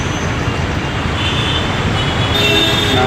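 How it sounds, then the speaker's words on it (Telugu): A Hyderabad metro train at Durgam Cheruvu station gives a loud, steady rumble of wheels on rail, with a faint metallic squeal rising toward the end. "దుర్గం చెరువు మెట్రో స్టేషన్లోకి ఎంటర్ అవుతున్నాను ఫస్ట్ టైము నేను మెట్రో రైలు ఎక్కబోతున్నాను"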